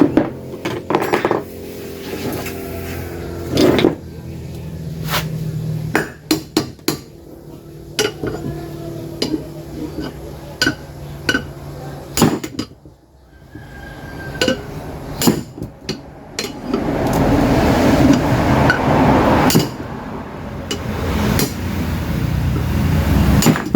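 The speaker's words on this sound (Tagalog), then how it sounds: "Bali, pinapower handle lang yan, binibigla ng pukpok para siya ay kumalas." Metal tool strikes ring out as a power handle on a water pump nut is hammered to break it loose, a series of sharp, irregular clanks spaced across the clip with some louder metallic banging and rattling near the end.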